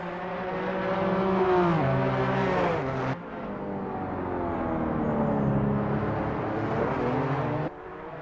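A racing car engine strains and revs unevenly coming out of a corner, pitch sagging and climbing as it labors through a gear change, loud and close with no talk.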